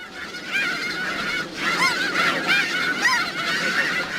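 A large flock of snow geese honks constantly, a dense chorus of overlapping nasal calls at moderate distance, steady throughout.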